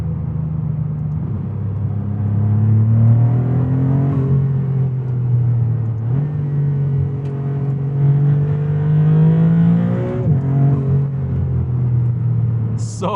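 A 2023 Maserati MC20 Cielo engine revving while driving, a loud continuous droning growl whose pitch climbs steadily through the revs, eases briefly, then climbs again, heard alone without talk.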